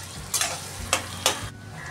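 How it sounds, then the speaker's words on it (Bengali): Chopped onions sizzle in a pan for prawn biryani, with three quick scraping stirs rising over the steady frying hiss. "পেঁয়াজটা আমার হালকা ভাজা হয়ে এসছে"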